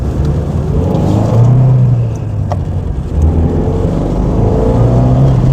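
A 1991 Ford Sierra RS Cosworth engine accelerating with boost hesitation, a loud in-car rumbling drone that rises, dips briefly midway and then climbs again, with no talking.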